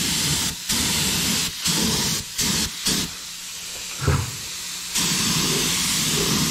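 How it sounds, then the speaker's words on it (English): A spray gun lays a light coat of candy apple red paint over chrome custom rims, its steady hissing bursts coming in short pulls of about a second, then one longer continuous spray, close and loud. "I'm just going to go ahead and start spraying here for a minute so you can see what happens"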